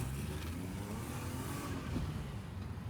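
A BMW E36 converted to manual transmission accelerating gently in first gear during a clutch slip test, giving a steady, dense engine drone that swells slightly, heard from inside the car.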